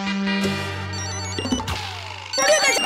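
An electronic mobile ringtone plays a melodic sequence of tones, with a brief burst of clatter and noise at the end.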